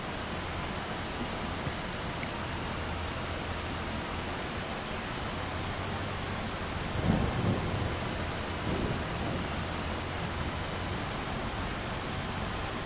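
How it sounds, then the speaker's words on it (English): Thunder rumbles through steady rainfall in the Farming Simulator 25 forestry setting, a continuous wash of rain with a low rolling thunder swell about midway, alone without voices. "I do like the sound effects, the thunder sounds and weather effects that you get now."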